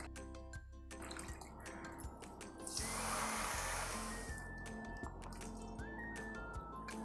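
Water poured from a cup into a kadhai of sugar on a lit gas stove to start syrup for gulab jamun, a steady splashing pour swelling midway over faint clinks and room hum, no talk.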